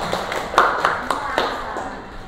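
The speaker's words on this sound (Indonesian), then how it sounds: "tepuk tangan untuk kelompok" A few scattered claps in a classroom, roughly five or six in a loose rhythm, close by, with a voice talking over them.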